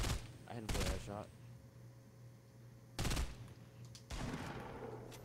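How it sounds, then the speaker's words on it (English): Gunfire in the video game Fortnite, short bursts of rapid shots in separate volleys, with a player talking in between. "why is he shooting at me?"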